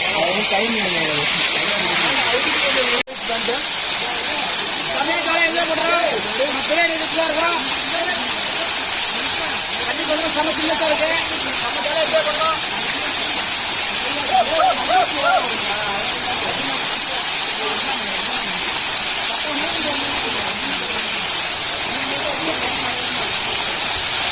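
Periyar waterfall in the Kalvarayan Hills roars as a steady, dense broadband rush of falling water, loud and continuous throughout, with faint voices murmuring beneath the torrent.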